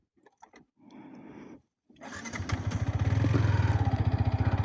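A motorcycle engine starts up and runs steadily while the bike turns, building into a loud, close, rhythmic throb; short bursts of clatter come just before it.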